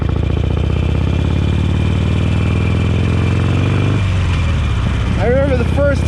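A 2017 Harley-Davidson XL1200CX Sportster Roadster with a Stage IV upgrade runs with a steady, close engine rumble, and a voice talks over it near the end.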